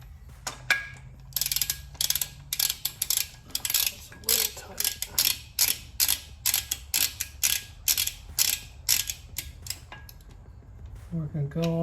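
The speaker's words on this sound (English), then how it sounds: "torque wrench set to 75 foot-pounds" A torque wrench set to 75 foot-pounds tightens bolts on a Lincoln Mark VII manual transmission, giving rapid bursts of close, sharp ratchet clicks in repeated strokes with short pauses between them.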